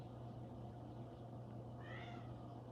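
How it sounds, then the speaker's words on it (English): A house cat gives a single faint, drawn-out meow partway through over a steady background hum, with no talking. "Okay, that's my cat."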